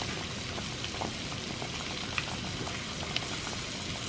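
Butter melts in a pan alongside fish being blackened, giving a soft, steady sizzle and crackle with a few small pops, fairly quiet and with no talking.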